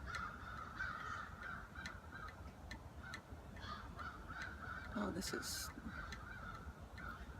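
Crows caw repeatedly overhead while mobbing and chasing a hawk outdoors, a steady series of harsh calls over constant background noise, with a person speaking briefly.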